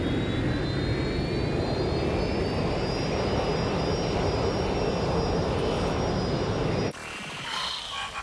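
A jet airplane engine roars loudly and continuously with a rising whine in the video game Watch Dogs Legion, then cuts off abruptly near the end.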